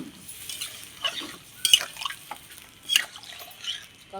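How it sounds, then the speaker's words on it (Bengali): Water is poured into a pot of fig curry, giving soft splashes and a few light clinks of utensil against the pot, fairly close and quiet, without talk. "এবার আমি জল দিয়ে দেবো।"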